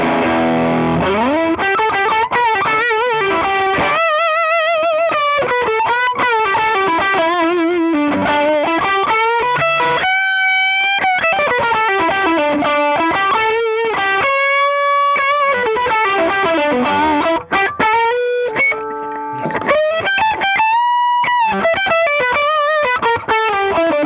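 Electric guitar on the bridge pickup driven hard through overdrive pedals, a loud, thick, sustained distorted tone strumming and holding chords continuously with no voices.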